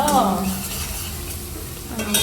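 Garlic potatoes being tempered in sizzling oil, a steady crackling fry with a spatula stirring and scraping the pan, the scraping louder at the start and end.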